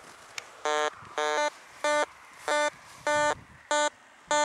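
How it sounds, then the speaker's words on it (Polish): A metal detector signals a metal object with a pulsing electronic tone beeping in repeated bursts, about seven evenly spaced buzzy pulses with steady pitch, loud and close with quiet gaps between. "Daje sygnał od przedmiotu metalowego."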